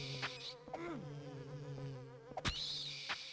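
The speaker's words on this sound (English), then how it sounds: "how fucking weird would it be if a hummingbird head was on a bat's body and it made bee noises" Insect-like buzzing from a monster in Silent Hill 4, a steady droning hum with wavering overtones that runs throughout, broken by a few sharp clicks and a loud thump.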